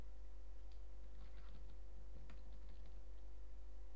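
HTML code typed on a computer keyboard, a faint, uneven run of soft key clicks over steady low hum.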